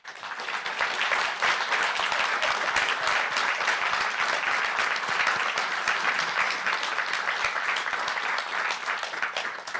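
An audience at a city council meeting applauds in a steady, dense round of clapping that holds for the whole stretch without pause.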